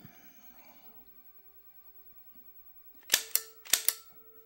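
Gunshots from an NES Zapper video game: after a quiet stretch, a quick burst of four sharp crackling shots in two close pairs rings out over faint game music.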